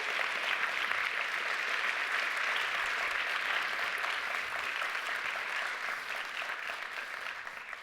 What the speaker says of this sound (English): Let's give all 5 of them a round of applause once again.